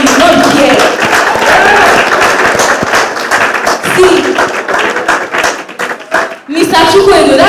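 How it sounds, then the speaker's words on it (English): An audience at Open Source Community Africa's OSCA 2022 conference applauds the sponsors with sustained, dense clapping close by, while a speaker's voice runs over it and a brief spoken word cuts through near the end. "please just, applaud them"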